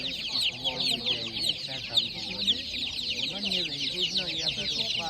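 Chickens clucking continuously nearby at a livestock market in Kolomyia, Ukraine, a busy chorus of hens with occasional louder squawks, steady throughout.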